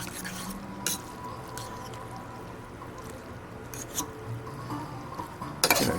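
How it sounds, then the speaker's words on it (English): Instant thin noodles with ginger and sesame oil seasoning being stirred in a bowl give soft wet swishing and occasional light clinks of a utensil against the dish, ending in a brief louder scrape. "Gonna take a bit of stirring to get this going."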